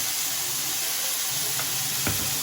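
Ginger added to cooking bottle gourd (lau) sizzling in a pan, giving a loud, dense, continuous hiss with a brief knock of a utensil near the end.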